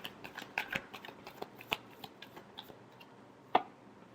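Tarot cards being shuffled up close, a quiet run of soft riffling ticks and flicks with one sharper snap near the end, faint against a light background hiss.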